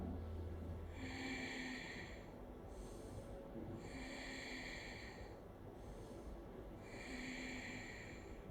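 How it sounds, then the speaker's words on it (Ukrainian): Slow nasal breaths come in three long pulls, close and fairly soft, during a yoga pelvic floor exercise, with a quiet background and no talking. "Вдих. Ще вдих."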